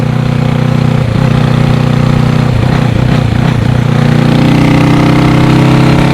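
Honda CB360 motorcycle running in sixth gear, with a loud, steady engine drone and a constant exhaust hum that rise slightly in pitch, recorded close to the bike with strong wind rush.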